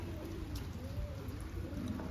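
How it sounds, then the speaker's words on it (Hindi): Heavy monsoon rain falls outdoors in India as a steady, even hiss of drops on surfaces, with faint bird calls in the distance and no talking. "इतना तो बारिश हो रहा है"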